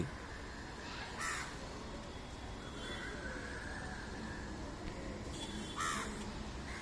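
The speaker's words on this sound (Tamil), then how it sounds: "இந்த பகுதியில் இருக்கக்கூடிய அனைத்து மரங்களிலும் பறவைகள் அதிகமாக இருக்கின்றது" Birds calling from the trees give a few separate harsh, crow-like caws at a moderate distance over a steady background hiss.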